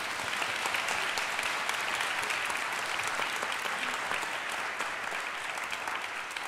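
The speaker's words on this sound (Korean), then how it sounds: "박수 한번 보내주세요." An audience at a year-end ensemble concert of Saint-Saëns' Carnival of the Animals gives steady, dense applause, an even wash of many hands clapping that holds at full strength throughout without talk.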